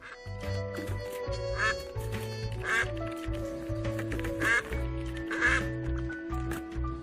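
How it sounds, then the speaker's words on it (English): A cartoon duck quacks repeatedly in the video game Duck Detective. The crisp quacks come in a rhythmic series over bouncy background music, clear and close. "of course it has a dedicated quack button"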